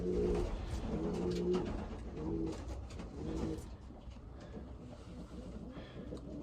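A racing pigeon from a Florida derby auction coos in several soft, low rolling phrases close by, over quiet background rumble.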